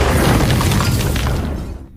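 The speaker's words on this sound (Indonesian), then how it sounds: "tepat saat kapal itu meledak" A ship explodes in a film with a deep, roaring blast that rumbles and crackles continuously for about two seconds, loud and close, then fades away.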